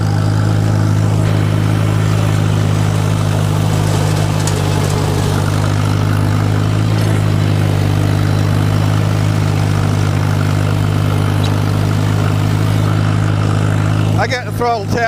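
A riding lawn mower with an inline four-cylinder engine runs at steady set throttle while mowing, a loud constant engine drone close by, with a person talking over it throughout.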